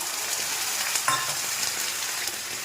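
Steady sizzling of onions frying in a pan, with a few soft scraping stirs and small pops; no talking.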